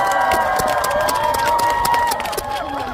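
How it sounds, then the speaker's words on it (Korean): A fan club audience at an outdoor cherry blossom festival by Okjeong Lake in Imsil cheers and applauds steadily for a trot singer's introduction, a dense crowd roar with clapping. Music plays beneath the crowd noise throughout. "박수 한번 부탁드리겠습니다"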